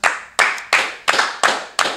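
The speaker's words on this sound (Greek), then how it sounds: "Χειροκρότημα." Six slow, evenly spaced claps at close range during a podcast, crisp and isolated with brief decay between each, sounding like one or two people clapping rather than a large audience.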